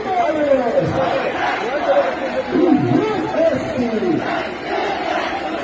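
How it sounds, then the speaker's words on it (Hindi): Massive crowd of tribal protesters in Assam rallying against the government, many voices shouting and chanting together in loud surging waves with rising, overlapping cries. "आप यह वीडियो देखिए, आपको अंदाज़ा लग जाएगा कि यह भीड़ जो है 100, 200, 500, 1000 की नहीं है बल्कि लाखों की है"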